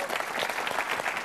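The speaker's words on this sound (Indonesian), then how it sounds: "Oke, tepuk tangan lagi buat Stanley" A studio audience at a televised stand-up comedy show applauds for a comedian, dense continuous clapping, loud and close, filling the whole brief moment.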